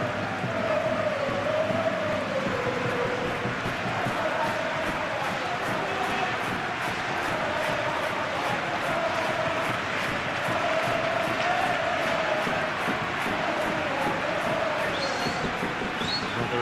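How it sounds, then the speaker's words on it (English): A stadium crowd in eFootball PES 2021 roars and chants without a break through a Real Madrid vs Real Sociedad LaLiga match. The sound is a dense, loud, steady wash with sung chants rising over it. "a capacity crowd here"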